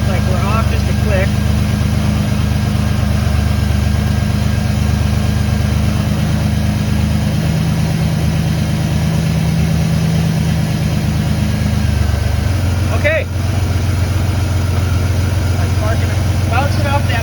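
Chevrolet S-10 with a 2.8 engine idling steadily after distributor timing adjustment, a continuous low engine drone close by with a brief click partway through and a voice speaking over it.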